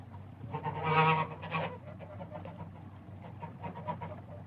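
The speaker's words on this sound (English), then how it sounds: "And there were geese." Geese call in the wild, a loud honking burst near the start followed by fainter scattered honks and chatter over a low background hum.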